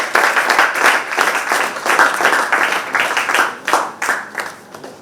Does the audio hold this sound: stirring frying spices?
no